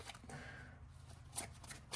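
A deck of tarot cards being shuffled during a murder-mystery tarot game, with soft papery riffles and slides over two seconds and a sharper burst of card flicks near the end, close and fairly quiet, with no voices.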